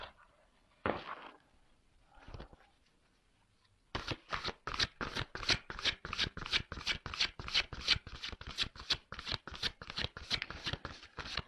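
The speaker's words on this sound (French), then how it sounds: "On va prendre d'autres cartes" Tarot cards are shuffled close up, a couple of isolated riffles followed by a long run of quick, rhythmic slapping shuffles.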